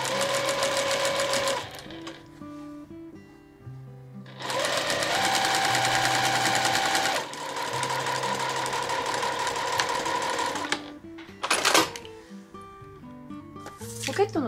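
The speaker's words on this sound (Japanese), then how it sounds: "まずね、ポケットのない方1センチ縫っていきます。" A domestic sewing machine stitches the side seams of a gathered camisole dress with a side pocket, running in several close, buzzing bursts separated by pauses, with someone speaking over and between the runs.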